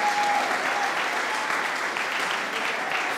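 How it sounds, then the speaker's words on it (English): A church congregation claps steadily in sustained applause during a Sunday morning service, a dense wash of hand claps filling the room throughout. "Give them a round of applause."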